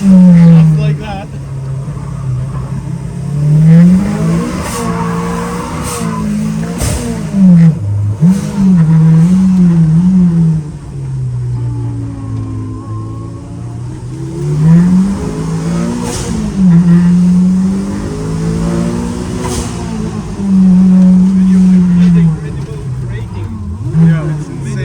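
A Kimera Evo37 rally car engine accelerating and revving hard, loud and close, with the pitch climbing and dropping through repeated surges and gear changes, while people talk over the engine noise.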